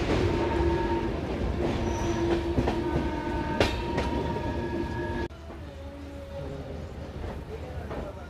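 A passenger train runs on the Visakhapatnam to Araku line with a steady loud rumble, rattling carriages and a thin wheel squeal that drops to a quieter roll partway through.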